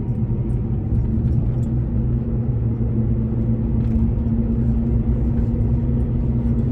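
A Gen 1 Ford Raptor coasts with its gears grinding and whining, producing a steady, loud low rumble with a faint tonal whine held underneath while the truck rolls along.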